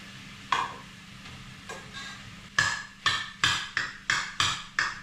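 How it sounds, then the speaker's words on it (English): Rice going into a hot pan with spring onions for Indonesian nasi goreng, a soft sizzle under a run of sharp rhythmic clacks of a utensil against the pan, about seven in quick succession, close and without talk. "Okay, now in goes our first batch of rice."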